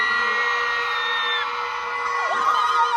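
A large festival crowd at Reggae Sumfest in Jamaica screams and whoops, with high shrill voices piling up over a sustained roar and rising in bursts toward the end.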